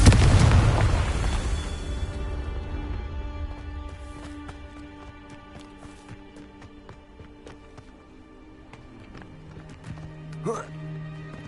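In Hogwarts Legacy, a Confringo explosive spell goes off with a loud booming blast that decays over a couple of seconds, followed by softer game sounds and a brief effect near the end.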